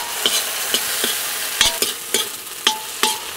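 Two medium tomatoes' worth of pieces hit a hot pan and crackle as a spoon scrapes through them, giving about eight sharp stirring clacks over a soft, steady sizzle, close and fairly loud with no voices.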